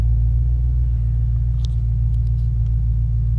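A BMW M6 Gran Coupe engine idles with a deep, steady low rumble close by, a few faint clicks breaking through near the middle.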